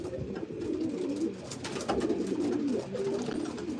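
Ironclad-line racing pigeons in a loft, cooing softly in repeated low, throaty rolls, close by, with faint rustling.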